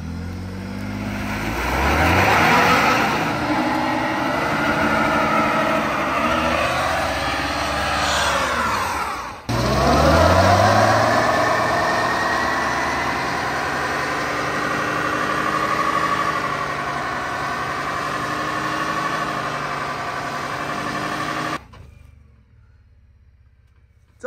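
An engine revs hard during a burnout on a plywood board, a loud sustained roar with rising and falling pitch, a brief dip near the middle, then cutting off abruptly to near silence at the end.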